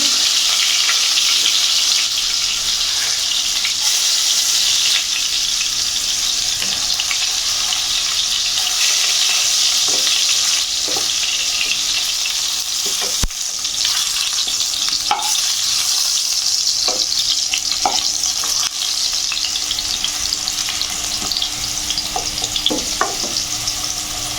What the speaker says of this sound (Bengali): আলুগুলো আমি আস্তে আস্তে ভেজে নেব।